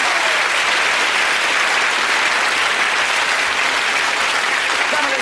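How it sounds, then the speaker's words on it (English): Loud, dense studio audience applause on the Big Break snooker game show, a continuous wall of clapping that holds steady at full volume throughout with no gaps. "Round of applause for Elizabeth and Stephen there"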